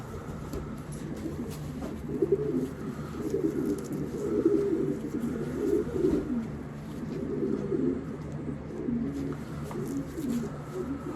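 Racing pigeons, including a double grandson of the Bulldozer line, coo steadily in a loft in freezing winter weather, a low, continuous murmuring chorus with soft rhythmic swells and no speech.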